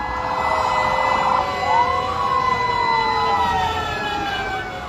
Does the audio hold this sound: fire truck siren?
yes